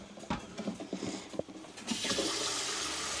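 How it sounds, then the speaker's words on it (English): Cold tap water gushes into a kitchen sink over a pot of freshly boiled eggs, starting after a few knocks and clatters of the pot being set down, then a steady, fairly loud rushing stream continues to the end. "run some cold water on."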